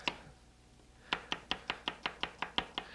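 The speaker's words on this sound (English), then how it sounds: "This is just to give it flavor, and just chop it all up." A knife chops carrot and onion on a board in a French home-style kitchen: about ten crisp, evenly spaced strokes after a short quiet pause, close and clear with no talking.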